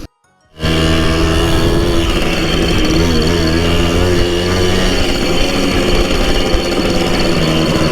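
A Simson S51 moped engine bursts into life after a brief silence, then runs loud, close and steady with a rough, buzzing two-stroke drone throughout.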